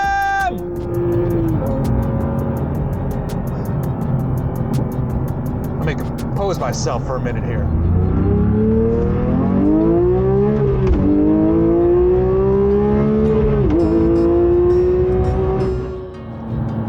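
A 2022 Porsche 911 GT3 Touring with a naturally aspirated 4-liter flat-six revs up and down in rising, sweeping pulls, loud and close, while a person talks over it throughout.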